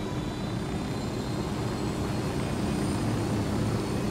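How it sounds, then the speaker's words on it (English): A helicopter in Ghost Recon Wildlands gives a steady, dense rotor and engine roar that holds evenly at moderate loudness with no talk over it. "Or get killed by the helicopter."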